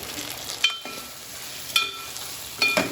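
Boiled taro (chamagadda) pieces stirred in hot oil with turmeric, three distinct scraping clinks of the stirring spoon against the pan over a soft, steady sizzle.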